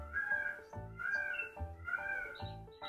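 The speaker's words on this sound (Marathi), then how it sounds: "तुम्हाला अजून मोराचा आवाज येत असेल." A peacock in a jungle-safari-style park near Mahabaleshwar gives a series of loud, drawn-out wailing calls, about four in close succession, close and clear with no talk.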